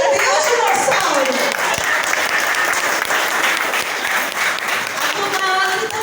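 Enthusiastic applause at a prayer group gathering marking 28 years, a room of people clapping continuously with voices talking and cheering over it.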